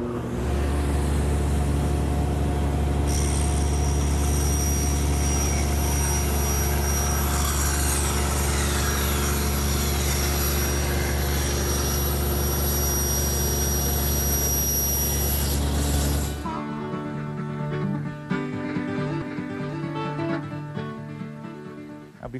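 A table saw rips a board for a cricket table, the blade raised slightly and the wood run along the rip fence; a loud steady whine runs close for about sixteen seconds, then drops away as the cut ends.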